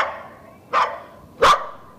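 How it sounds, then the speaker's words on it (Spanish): A small dog barks twice, sharp and fairly close, with a clear pause of about half a second between the barks, heard alone against a quiet background in a children's sound-guessing game. "Que conocen el sonido del perrito"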